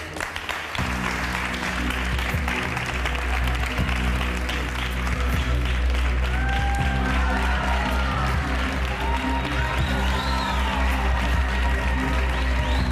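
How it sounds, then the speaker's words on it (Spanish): A television studio audience applauds and cheers as a guest enters a Spanish talk show, dense clapping over a steady musical backing with some crowd noise, continuous and lively throughout. "Un aplauso para Marcé."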